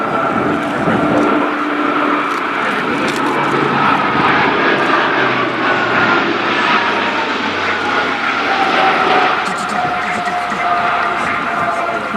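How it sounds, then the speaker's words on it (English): An advanced tactical transport aircraft of the Italian Air Force, derived from the G-222, flies a display at an airshow with a continuous loud turboprop engine roar that shifts in pitch as it passes. Crowd noise sits underneath. "Advanced version of the tactical transport aircraft of the Italian Air Force"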